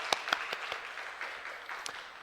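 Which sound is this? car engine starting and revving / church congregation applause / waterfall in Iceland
church congregation applause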